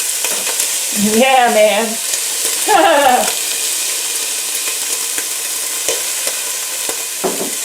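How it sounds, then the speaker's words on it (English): Collard greens and chickpeas popping and sizzling in a hot pan, a continuous close crackle with scattered sharp pops, while someone briefly talks over it. "Popping all over the place."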